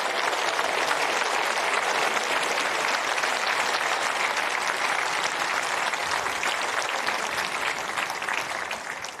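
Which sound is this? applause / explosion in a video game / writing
applause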